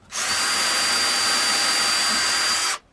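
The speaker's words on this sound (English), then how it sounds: "we go in and we give it the pilot holes." Power drill boring pilot holes during a guitar build, likely for mounting the neck, running as one steady high-pitched whine for under three seconds, close and loud, with no voices.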